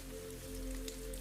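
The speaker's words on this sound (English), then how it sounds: "beyond the cottage windows, the rain continues softly through the night" Soft night rain falls outside a cottage over a meadow and greenhouse roof, a faint, even patter under a steady low hum, brief and without voices.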